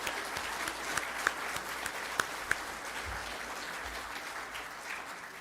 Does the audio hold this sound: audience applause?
yes